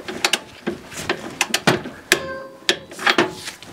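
A wrench ratchets as a bolt is tightened to 50 Nm on the front suspension of an Alfa Romeo, with a series of close, sharp clicks and metallic ticks in an irregular rhythm.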